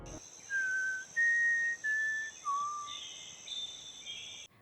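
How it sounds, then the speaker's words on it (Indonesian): A sequence of clear whistled notes from the Hunger Games film, a signal echoed by mockingjay birds, sounds as four or five short tuneful phrases over a faint steady insect-like hum. "Sinyal itu berupa siulan. Secara ajaib, siulan itu ditirukan oleh burung-burung Mockingjay yang ada di sana."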